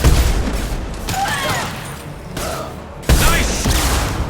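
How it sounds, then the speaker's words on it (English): High impact rounds fire in Mass Effect 2 combat, loud sharp gunshot bursts in rapid succession, with a fresh heavy volley near the end over a busy battle backdrop. "Firing a high impact shot"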